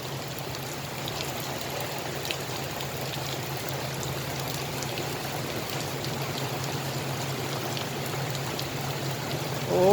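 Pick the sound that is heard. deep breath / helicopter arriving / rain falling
rain falling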